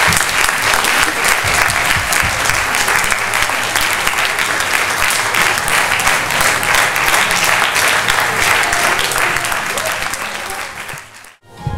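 Sustained applause from a film premiere audience fills the room loudly and steadily for about eleven seconds, then fades and cuts off near the end.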